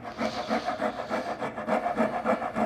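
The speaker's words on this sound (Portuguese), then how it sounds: "Agora eu vou passar a grosa aqui, me atendo à linha daqui e à linha daqui." A wood rasp scrapes across a wooden mallet being shaped, in quick regular back-and-forth strokes, close and loud, with no talking.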